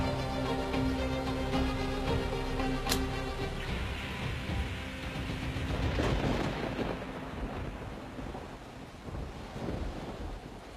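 A thunderstorm with rain: a loud, continuous, wind-like roar of downpour that swells and thins slightly across the span, with no voices.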